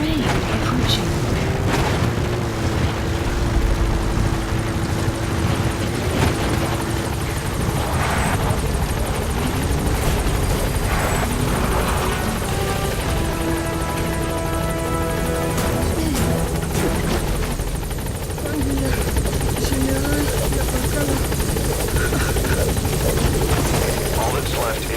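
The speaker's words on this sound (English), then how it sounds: "Support helicopter has arrived." Loud, continuous helicopter rotor thumping close by in Metal Gear Solid V: The Phantom Pain, a support helicopter arriving, with bursts of impacts and radio-style voices speaking over it.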